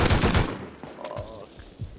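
AK rifle gunfire in the survival game Rust, a rapid burst of loud shots at the start that tails off into fainter scattered noise.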